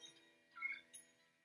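A cat meows in the video game Luigi's Mansion 3, one short faint meow rising out of quiet game music with a brief second cry just after.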